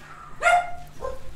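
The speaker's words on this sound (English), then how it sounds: "You may hear my dog, because my dog's a noob." A pet dog gives a single sharp bark followed by a softer yip or whine, heard close in a quiet room during a game session.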